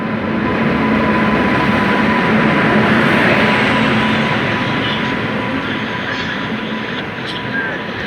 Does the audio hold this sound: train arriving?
yes